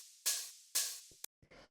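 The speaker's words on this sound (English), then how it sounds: "So then the next thing I'll show you here is this little upbeat hi-hat, which sounds like this." Layered upbeat hi-hat, a crisp electronic hit partly built from a 909 sample, from a soulful house beat: two bright open hits about half a second apart, each decaying quickly, then a few softer short ticks, close and isolated.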